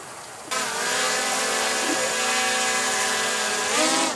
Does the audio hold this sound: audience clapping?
no